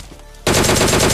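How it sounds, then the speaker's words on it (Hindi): Loud, dense automatic gunfire from the PUBG Lite video game erupts abruptly after a brief quiet lead-in and keeps up as a rapid, sustained burst of shots with no talking over it. "चारों दिशाओं से गोलियां हमारी ओर आ रही हैं"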